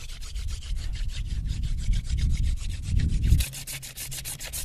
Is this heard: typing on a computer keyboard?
no